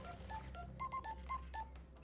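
In the video game Scrap Mechanic, a phone at a mechanics station gives a quiet electronic ring: several short, evenly spaced bursts of tones over a low hum, with no voices present.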